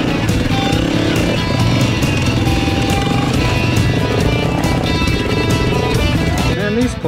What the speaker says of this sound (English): Chris stops to mess around on this rock, and I'm glad he's on a TTR 250.